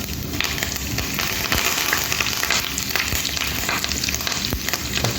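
Mustard seeds, urad dal, cumin and curry leaves are tempered in hot oil for a snake gourd and drumstick poriyal, giving a steady, close sizzle with dense crackling and popping that runs the whole time without a pause.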